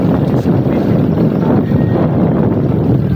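Strong wind buffets the microphone in a continuous low, rumbling roar with gusty surges.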